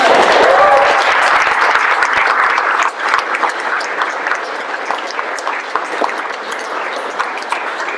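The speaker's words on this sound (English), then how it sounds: "You can applaud." An audience applauds at a university graduation ceremony as a diploma is received, with loud, dense clapping throughout that eases slightly after the first few seconds but keeps going.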